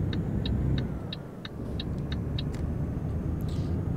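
A truck driving along a country road in Euro Truck Simulator 2, a steady low engine rumble and road noise throughout, with a faint regular ticking like a turn indicator over the first two seconds.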